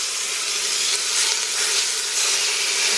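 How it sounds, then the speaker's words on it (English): Beef short ribs browning in hot oil give a loud, steady sizzle and hiss that holds throughout, with no voices over it. "Y'all hear that sizzle?"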